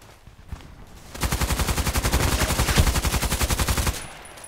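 Automatic gunfire in the video game Contract Wars, one rapid, sustained burst of evenly spaced shots lasting close to three seconds, preceded by a few scattered single shots.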